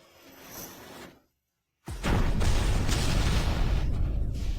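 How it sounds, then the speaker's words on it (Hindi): A building blows up in a Hindi drama: after a dull rumble and a second of silence, a sudden loud blast breaks into a sustained, heavy roar of debris and fire that lasts to the end. "तुम धमाके को आतिशबाजी कहती हो?"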